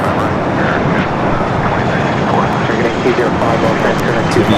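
An airliner takes off from runway 25 right at Los Angeles International Airport, its engines a loud, steady broadband roar that stays constant across the whole stretch.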